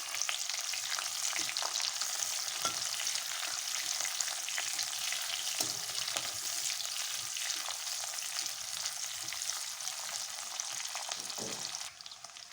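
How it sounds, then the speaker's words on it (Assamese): Onions, mustard and green chilies frying in a pan for fish curry, a constant dense sizzle with occasional soft stirring knocks, steady and close until it quiets slightly at the very end. "পিঁয়াজখিনি দিছোঁ আৰু সৰিয়হখিনি দি দিছোঁ। এতিয়া এইখিনি ভালকৈ লৰাই দিম।"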